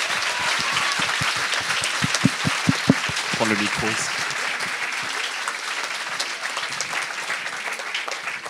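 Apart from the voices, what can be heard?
applause for first prize winner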